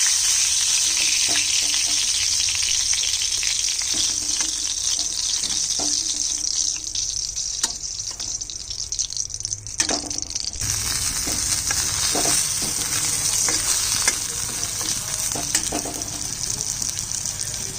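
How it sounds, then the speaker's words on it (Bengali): Prawn-stuffed gourd-leaf fritters frying in refined oil, a continuous close sizzle with occasional light clinks and stirring, no voices. "এইভাবে আমি সমস্ত বড়াগুলো ভেজে নিচ্ছি।"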